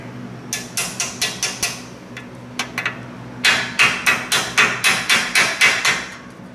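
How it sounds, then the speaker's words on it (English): A hammer taps a metal cotter pin on a Jeep's steering stabilizer in quick, even strikes, first a short series, a pause with a few light taps, then a longer run of sharper blows. "You may need a hammer."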